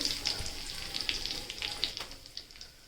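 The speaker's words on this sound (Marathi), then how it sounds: "तूप आपला चांगला तापला ना की त्यामध्ये रवा घ्यायचा" Semolina toasting in hot ghee in a pan, giving a faint, steady crackle and fizz with small sporadic pops, quiet and continuous, with no talking.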